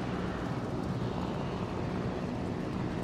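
A fighter plane launches from a warship in World of Warships Legends, a steady, droning aircraft engine roar that holds at an even, moderate level throughout, with no voices over it.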